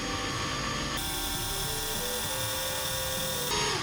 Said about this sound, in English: I'm holding this where the drill is going into